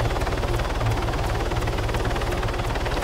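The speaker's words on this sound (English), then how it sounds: "Can you drive this chopper?" A helicopter in the Arma 3 video game, King of the Hill mode, drones steadily with rapid rotor chopping and engine roar, loud and continuous throughout.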